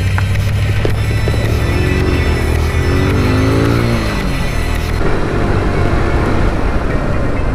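A Kawasaki Z125 motorcycle rides through a residential area, its small engine droning loudly and steadily up close, with pitch rising and falling as it accelerates and shifts, over constant wind rush.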